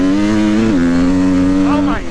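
KTM 350 XCF dirt bike engine held at high revs, a loud close steady drone with a slight pitch dip partway through and a brief change near the end.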